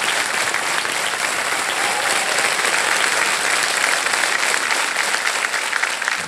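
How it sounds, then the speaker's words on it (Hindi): A game-show studio audience applauds a contestant with steady, dense clapping from many hands that holds at an even level throughout. "एक बार तालियां बज जाए उनके लिए"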